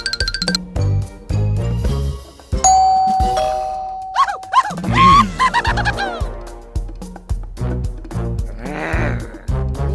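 A neighbour's doorbell rings in a playful kids' skit, a sustained ding-dong tone midway through, surrounded by bleat-like squeals and clattering comic sound effects.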